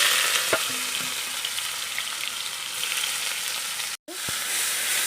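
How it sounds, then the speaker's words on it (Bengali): Chopped onion and nigella seeds fry steadily in hot oil for a Bengali chital fish curry, a continuous close sizzle with a sharp stir clack partway and a brief cutout near the end. "কালো জিরাটাকে ভালো করে ভেজে নেবে"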